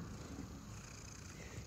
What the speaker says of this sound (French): Je suis avec mon petit chat.